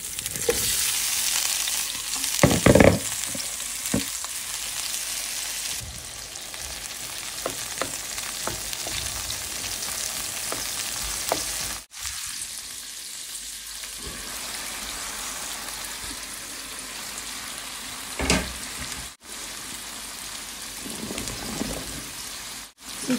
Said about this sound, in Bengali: এখন মাছের তেলে আমি পটলগুলো ভেজে নিব।